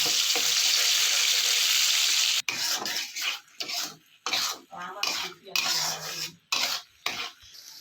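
Mashed bhorta tempered in hot soybean oil: a bright, continuous sizzle at first, then broken into bursts of scraping and rubbing as a utensil works the mash around the pan.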